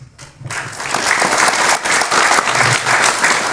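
Audience applause for twin athletes who won gold medals, dense clapping that starts after a brief pause and builds quickly, then carries on steadily and loud at close range with a few uneven surges.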